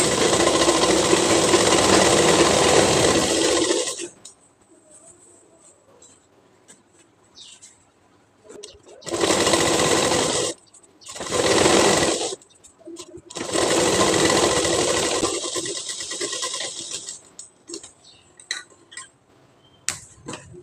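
A sewing machine stitches elastic onto a waistband of ladies' trousers, running loud and steady in several bursts separated by quiet pauses, with no talking.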